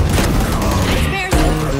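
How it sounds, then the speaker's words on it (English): A grenade explodes in a shooting video game: a loud, dense burst amid constant gunfire and action noise, with a brief dip just before a renewed blast. "Grenade!"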